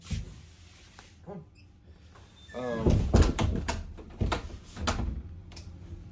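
A faulty door is forced shut with several loud bangs and rattles clustered in the second half, preceded by quieter scraping and a brief voice.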